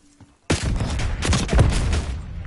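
A flashbang grenade goes off in Call of Duty with a sudden loud bang after a quiet start, followed by a sustained ringing blast and gunfire-like crackle that lingers to the end.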